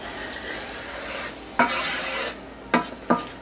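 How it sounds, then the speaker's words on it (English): Beef broth being stirred into a browned flour mixture in a pan for Swedish meatballs, giving a steady wet swishing with a faint sizzle and three sharp utensil scrapes or taps against the pot. "I will add my beef broth into the flour mixture, and I will stir to mix it well"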